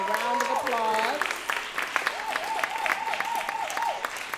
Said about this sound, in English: please give this esteemed panel of scholars, artists, human beings another round of applause